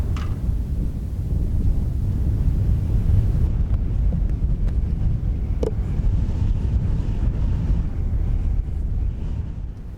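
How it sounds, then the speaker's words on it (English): Wind blows outdoors on a Nevada playa, a steady, loud blustery rush buffeting the microphone for the whole stretch, with no one speaking. "Unfortunately, the wind picked up."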